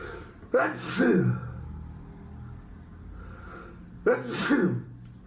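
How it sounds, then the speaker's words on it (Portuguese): Two loud sneezes a few seconds apart, each preceded by a quick inhale, over a low steady background hum. "Desculpa pelo espirro."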